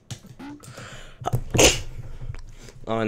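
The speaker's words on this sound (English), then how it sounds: "now I'm sneezing" A single sharp human sneeze, close and loud, preceded by short breathy vocal sounds and followed by brief speech.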